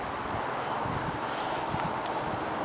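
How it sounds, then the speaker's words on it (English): Wind blowing steadily outdoors around a campfire, a constant rushing roar that buffets the microphone with no clear pauses. "we've got pretty good wind out here today"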